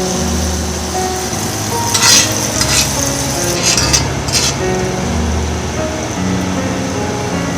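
Steak coated in mayonnaise frying in a hot pan, with a steady broadband sizzle throughout and a few brief scraping or clinking bursts from handling the meat, no talk.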